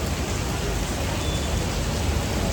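Heavy rain pouring steadily in Vellore, a dense, loud, unbroken hiss of water on surfaces with no pauses.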